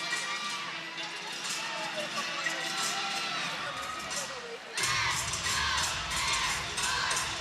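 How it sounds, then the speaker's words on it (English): Teammates on the sidelines of a college gymnastics meet, Air Force at Clemson, cheering and whooping for a gymnast during her floor routine, a lively crowd roar that swells louder near the end. "Teammates on the side dancing with her and cheering along."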